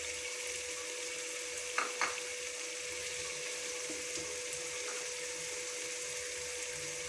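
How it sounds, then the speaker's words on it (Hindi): Taro root and potatoes with green chillies fry quietly in a pan, a faint steady sizzle broken by two brief utensil clicks near the start. "ये फ्राई हो रही है।"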